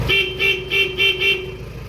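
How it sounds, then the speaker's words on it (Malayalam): A 1993 Mahindra CJ500 DI 4x4 jeep horn honks four times in short, evenly spaced beeps, loud and close, over a low idling diesel engine. "ഹോൺ ഇങ്ങനെ വരുന്നു"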